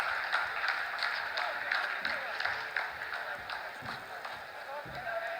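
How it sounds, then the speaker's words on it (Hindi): Scientists in the Chandrayaan-3 mission control room applaud during the lander's descent phase, a dense steady patter of many hands clapping with murmured voices mixed in throughout. "आप इस तालियों के गड़गड़ाहट को सुन सकते हैं"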